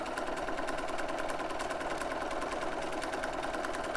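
Sewing machine stitching the seam of a slip-on head cover, a fast, even, close rhythmic needle chatter running continuously on its own.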